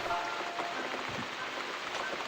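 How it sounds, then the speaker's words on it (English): Rain falls in the video game The Cat Lady, a steady, soft, continuous hiss heard alone at low volume. "Looks like we got the rain back."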